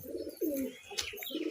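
Pigeons coo close by in the summer heat, a few low, throaty rolling coos in quick succession.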